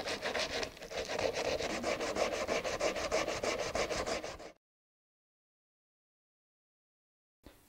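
Rhythmic back-and-forth scraping of coarse sandpaper on a relief-carved wooden leaf, close and steady for about four seconds, then silence.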